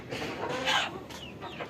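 A farmyard chicken in a village setting clucks a few times close by, short bright calls over a soft ambient background.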